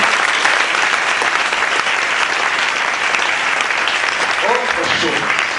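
Sustained audience applause fills a church retreat gathering in Pointe-Noire, a dense, steady clatter of many hands clapping throughout with no pauses, fairly loud and close.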